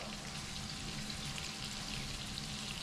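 Fish frying in a pan for a courtbouillon red gravy fish stew, giving a steady, even sizzle and crackle that holds close and constant throughout with no voices.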